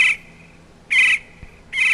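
Bird calls from the video game Payday 2: three bright, identical chirping calls, evenly spaced with quiet gaps between them, clear against a silent background.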